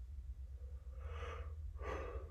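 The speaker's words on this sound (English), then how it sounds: "always yawning in these videos" A man gives two drawn-out, breathy yawning exhales in quick succession, close and fairly soft, over a steady low hum.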